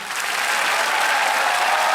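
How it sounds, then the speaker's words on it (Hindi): A TV game show studio audience applauds steadily, dense clapping filling the whole stretch at an even, fairly loud level with no voices over it. "एक बार फिर तालियां बज जाए"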